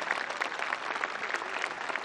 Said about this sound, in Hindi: इस उद्घाटन की खुशी में आप लोग जोरदार तालियां बजा सकते हैं।